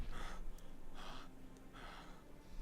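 A character in the medieval survival game Medieval Dynasty pants in heavy, rhythmic breaths, about three drawn-out exhalations heard alone at moderate loudness.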